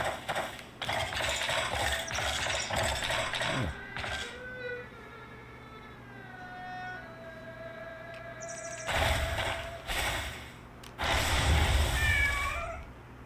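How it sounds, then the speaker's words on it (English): A cat meowing in the video game Where Winds Meet, several clear mews amid bird chirps and bursts of game noise. "Where's the cat at? Is there a cat here?"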